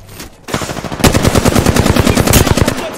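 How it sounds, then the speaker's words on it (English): Rapid bursts of automatic gunfire from the Apex Legends battle royale game, loud and close, rattling on almost continuously after a brief quiet start. "I'm getting shot at."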